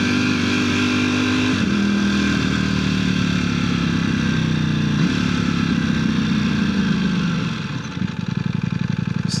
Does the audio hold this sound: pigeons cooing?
no